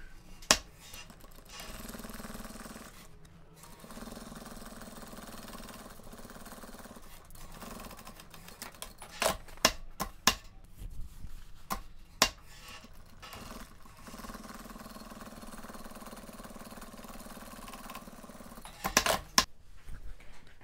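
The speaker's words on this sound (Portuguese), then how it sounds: "eu vou passar uma costurinha em cada lateral aqui" Sewing machine stitching along each side of a fabric strip for a zippered pouch, a faint mechanical buzz in several runs broken by pauses and sharp clicks and handling taps.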